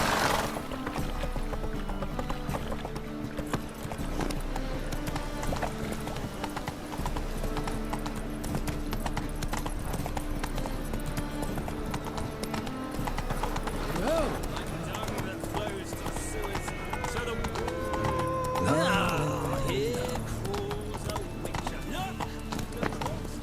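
A horse gallops in The Witcher 3, steady rhythmic clip-clop hoofbeats that run the whole time under game music and ambience, with a short whinny-like sound near the end and voices talking over it.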